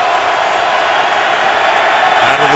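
Dense stadium crowd at an NFL Ravens–Steelers game roaring loudly and steadily, a thick sustained wash of many voices with scattered whoops, a deeper voice surfacing briefly near the end.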